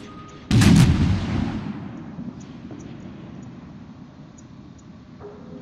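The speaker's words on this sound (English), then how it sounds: "Atlanta's firing over me" A heavy naval gun salvo from a ship in World of Warships booms out loud and sudden, then rolls into a long fading rumble, followed by a few faint distant pops.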